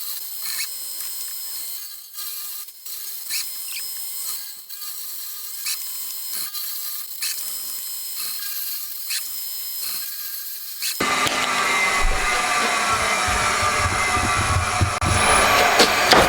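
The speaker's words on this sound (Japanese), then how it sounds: "ネジのヘッドを逃がすための座繰りやっていきます" A power tool counterbores a cast metal cylinder head for a 125cc four-cylinder engine, grinding steadily, then a much louder, rougher machining roar takes over for the last few seconds.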